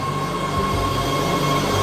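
A Los Angeles Metro Red Line subway train rumbles along its underground line, a steady, loud roar of wheels and carriage noise with a thin high whine running throughout.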